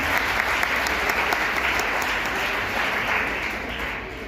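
Loud, dense applause from a crowd of students and attendees at a school programme at a girls' senior secondary school, steady and continuous throughout, tapering only slightly at the end.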